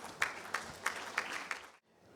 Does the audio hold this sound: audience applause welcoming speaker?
yes